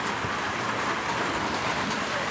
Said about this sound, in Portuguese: Olha o tanto de chuva que tá caindo.